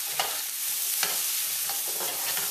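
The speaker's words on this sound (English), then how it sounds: "You can hear everything sizzling away nice now." Chickpeas and potato in curry sizzling hot in a pot, broad crackling hiss with a few sharp stirring scrapes at intervals, close and continuous, no voices.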